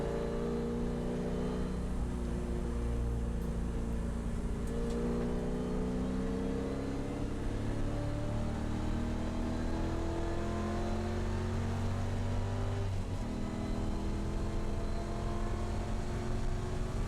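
A GT race car's engine drones loud and close from inside the cockpit during qualifying at Calabogie, with steady rising and falling revs through gear changes across the whole stretch and no voices.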